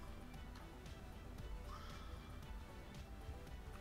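A horse in Minecraft whinnies faintly, one brief rising neigh mid-way over a low, busy game background with scattered clicks.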